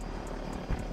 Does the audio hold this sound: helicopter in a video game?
yes